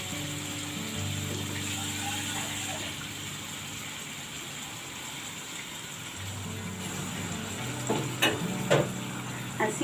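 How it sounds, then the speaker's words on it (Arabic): A sausage and vegetable sauce simmers and sizzles steadily in a pan as water is added, with a spoon scraping and clinking against the pot toward the end. "هنحط لها شويه ميه كمان"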